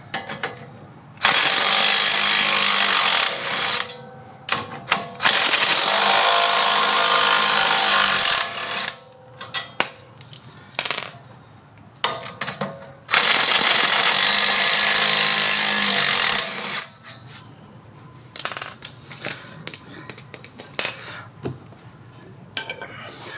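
A power impact tool works on the front brake caliper bolts of a GMC 2500 HD Denali pickup, giving three long, loud, buzzing runs separated by clanks of metal tools and rattling handling noises.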